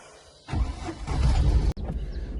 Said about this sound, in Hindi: और गाड़ी को करते हैं अपने को स्टार्ट।